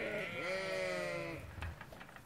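A sheep bleats once in a long, wavering cry close by on a farm, followed by faint rustling and soft shuffling sounds.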